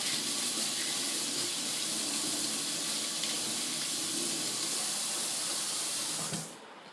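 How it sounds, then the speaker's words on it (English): Tap water runs steadily from a faucet into a kitchen sink while a hand is rinsed, a loud continuous broadband splash that holds even for about six seconds before cutting off abruptly. "Wash off my hand real quick."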